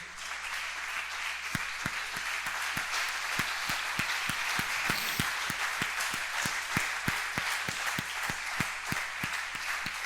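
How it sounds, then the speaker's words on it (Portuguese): Church congregation applauding at a Brazilian Portuguese worship service, steady dense clapping with sharp individual claps standing out, sustained evenly at moderate loudness throughout. "Você pode aplaudir o Senhor Jesus?"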